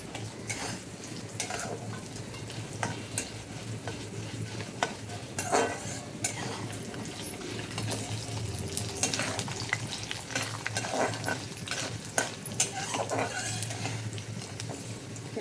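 Urad dal and another lentil dry-roasting together in a pan, stirred steadily to a golden crunch. The stirring scrapes and rattles continuously, close up, with no talking.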